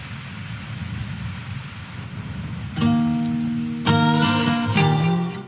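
Rain falling steadily as a soft, close hiss in an album interlude, with musical tones entering partway through and layering over the rain.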